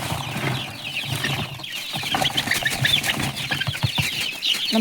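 Native country chickens cluck and scratch busily at close range while fed household vegetable peels and fruit scraps on a Malnad coffee estate, a dense, continuous chatter with flapping and pecking noises.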